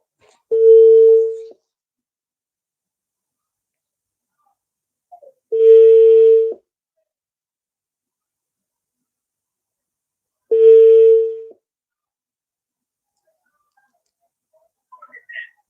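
A landline telephone call to a direct number: three separate steady tone bursts of about a second each, spaced several seconds apart with silence between, clear and close, ending with a few faint clicks.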